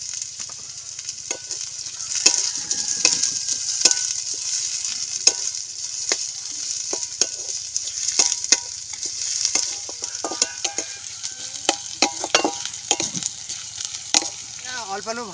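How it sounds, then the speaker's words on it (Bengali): Minced ginger and garlic frying in a pan with a little sugar, a steady close sizzle broken by frequent scraping and clicking of a spatula stirring against the pan. "এরপর দিয়ে দেবো আদা রসুন, যেটা কিমা করা ছিল সেটাকে ভেজে নেব।"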